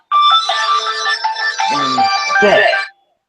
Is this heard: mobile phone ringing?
yes